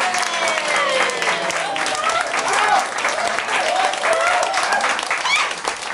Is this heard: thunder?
no